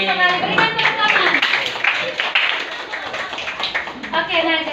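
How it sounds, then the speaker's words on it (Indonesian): A group of people clap together in applause at a teacher-led session wrap-up, a dense, steady patter of hands lasting several seconds without a break. "berikan tepuk tangan"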